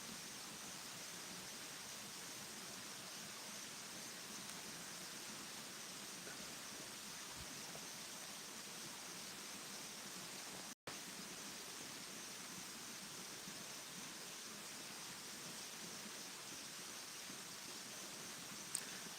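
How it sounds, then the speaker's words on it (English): Distant waterfalls pour in a soft, constant wash of broadband noise, faint and steady with no speech, heard from a mountain overlook at dawn. "I hope you guys can hear the waterfalls."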